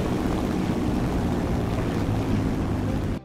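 Aircraft engine in War Thunder throttled down to 30%, a loud steady broadband roar and rumble holding constant, then cutting off abruptly at the end.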